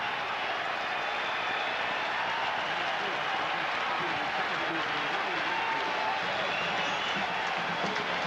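A New York crowd roaring at a 1998 Cardinals–Mets baseball game at Shea, a dense, steady wall of cheering and applause with a commentator's voice over it.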